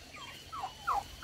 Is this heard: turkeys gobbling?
yes